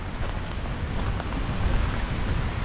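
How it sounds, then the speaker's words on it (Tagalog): Strong wind at a beach buffets the microphone with a continuous low rumble and gusty roar, steady throughout with no voices. "lakas ng hangin ngayon."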